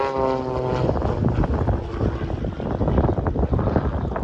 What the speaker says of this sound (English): Doing a little mid-radius turn here, the Bonanza.